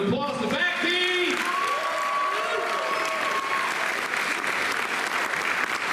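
Audience applause at the El Paso Gridley Showtime 2026 show for a band, a dense, loud wash of clapping, with a few sustained musical tones over the first seconds.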